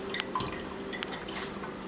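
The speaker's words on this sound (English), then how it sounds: "now it's time to pour the brine in" Brine is poured into glass jars for homemade pickles, heard as close, brief liquid drips and splashes with a few light clinks of glass.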